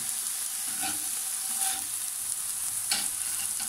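Kefta patties sizzle and fry in oil in a hot pan, with a steady crackling hiss and a few stirring scrapes, close and loud, and no voices.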